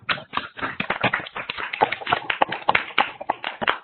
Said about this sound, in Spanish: activen su micrófono para darle un fuerte aplauso a la maestra